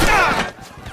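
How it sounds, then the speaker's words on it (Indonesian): Gunfire from a film firefight between soldiers and rebels: a dense burst of rapid shots rings out loud at first, then thins into scattered, lower reports and thuds over the second half. "Kontak senjata pun kembali terjadi,"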